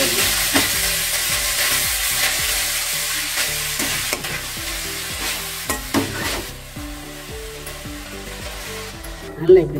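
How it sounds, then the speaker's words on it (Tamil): Ponnanganni greens are stirred and sautéed in a pan, giving a steady sizzle broken by repeated scraping and clattering strokes of a spatula against the pan, close and continuous with no talk. "நல்லா இப்படி திருப்பி திருப்பி விட்டிங்கன்னா அந்த கீரை அப்படியே இருக்குது"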